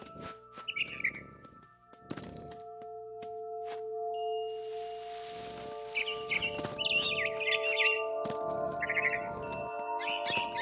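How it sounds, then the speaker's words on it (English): A barn swallow chirps in the video game What Remains of Edith Finch, short bright tweets in bursts over a quiet background with occasional soft rustling. "Then I heard chirping outside my window. It was a barn swallow going back to her nest."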